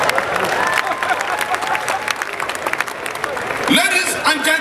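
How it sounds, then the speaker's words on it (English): Audience clapping at a live comedy show, dense crowd applause mixed with cheering and voices, fairly loud, ending in a burst of shouting and laughter near the end. "If you want to clap, clap."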